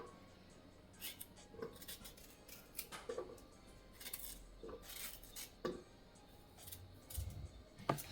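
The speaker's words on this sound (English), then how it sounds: "I'm gonna cut my ginger and put them in here" A knife cuts fresh ginger in a home kitchen, producing a series of faint, sharp clicks and taps scattered irregularly over a quiet background.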